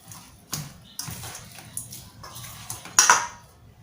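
A metal cooking pot clanks and knocks as it is handled for steaming a Thai-Isan bamboo shoot and pork belly dish, with several sharp, close bumps spread across the moment and the loudest clatter near the end.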